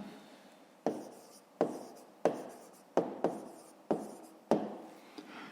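Short, crisp writing strokes scratch out one after another at an uneven pace, about eight distinct bursts close by, each fading quickly into a quiet room.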